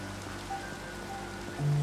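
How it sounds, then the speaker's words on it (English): Steady rain in a video game server, falling as an even, continuous patter with faint tonal game sounds over it and no voices. "Still raining."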